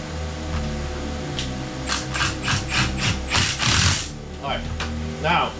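Ratchet wrench clicking while bolting a car transmission into place on a K24 turbo build with a competition clutch: several quick bursts of sharp ratcheting clicks, close by, over a low background hum.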